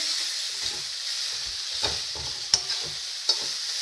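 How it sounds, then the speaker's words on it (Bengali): Lentils (dal) fry and sizzle in a pan, a soft steady hiss with a few scrapes and light taps of stirring, fairly quiet and without talk. "দিয়ে সুন্দর করে ডালটাকে ভেজে নেব"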